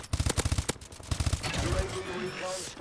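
Rapid burst fire from a weapon in Call of Duty: Advanced Warfare with an extended clip, several quick clusters of sharp shots in the first second and a half, followed by a player talking.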